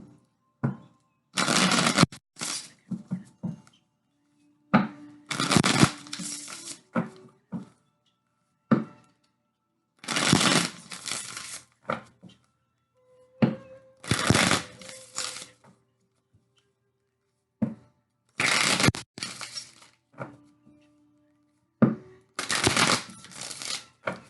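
A tarot card deck being shuffled in repeated bursts of crisp, riffling flutter, each a second or so long, close and clear, separated by quiet pauses with a few soft taps and faint voice.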